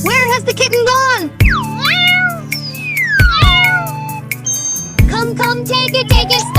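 Cartoon kitten meows repeatedly in high, bending cries over a steady musical backing, with tinkling chimes and occasional thumps; loud and close, with bursts of animated voices between the meows.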